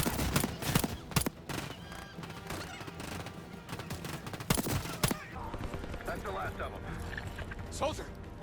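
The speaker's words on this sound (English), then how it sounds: "Gunfire behind us." Call of Duty Black Ops 6 campaign battle with rapid bursts of gunfire and explosive cracks amid game sound effects and talking, with the fire most intense early and fading to sporadic shots.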